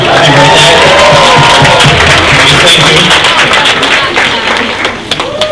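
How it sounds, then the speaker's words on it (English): An audience at a media awards event claps and cheers loudly, a dense wash of applause with a few whoops that gradually thins out toward the end. "everybody maybe give her a quick cheer."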